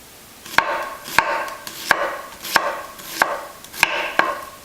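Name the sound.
knife slicing an onion into thin strips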